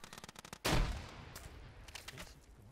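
A frag grenade bursts in a military video game, one sharp loud blast that comes after a scatter of distant gunfire clicks. Faint shots keep popping afterward as the rumble fades.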